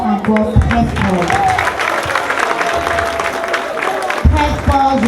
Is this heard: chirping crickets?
no